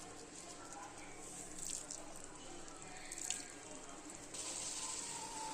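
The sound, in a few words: pouring a little water into pumpkin stir fry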